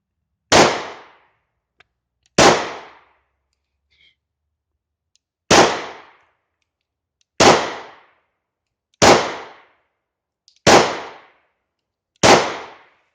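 Seven sharp, loud German P.08 Luger pistol shots ring out one at a time at irregular intervals, each with a brief decaying echo and near silence between them.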